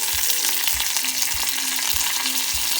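Spices sizzle in hot oil inside a heated clay pot, a dense continuous frying hiss with soft periodic low thumps roughly every half second as the mixture is stirred, close and loud with no talking.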